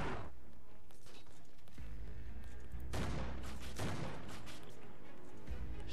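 Shotgun fire in the sci-fi shooter Roblox Impulse, several heavy booming blasts with a sustained low rumble between them, loud and close over game music.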